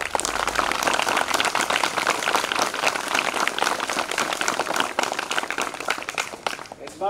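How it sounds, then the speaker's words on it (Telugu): Schoolchildren at a government school applaud together, a dense, sustained burst of many hands clapping nearby that runs throughout, with crowd noise mixed in. "చప్పట్లు కొడతారు."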